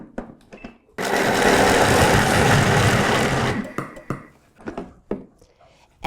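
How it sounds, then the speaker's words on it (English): A food processor runs continuously for about two and a half seconds, mincing fish with fish sauce into a light, fluffy paste for Burmese fish balls. The loud motor whir stops abruptly and is followed by quiet kitchen handling noises. "let the machine fluff up what it's mincing"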